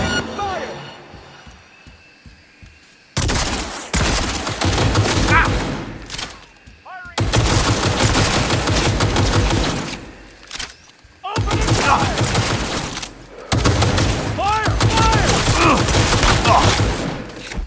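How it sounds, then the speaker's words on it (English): Gunfire in the video game Cyberpunk 2077 during a raid on the Arasaka estate: long, loud rattling volleys of automatic fire in several sustained bursts separated by short lulls, with voices speaking over the shooting. "I'm taking fire!"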